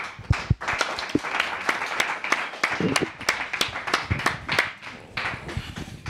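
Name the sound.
audience applause for a guest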